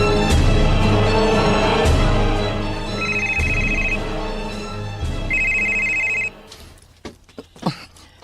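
An electronic telephone bell rings with an incoming call in a horror audio drama, sounding loud in repeated bursts under layered background sound, then cutting off as brief faint noises follow.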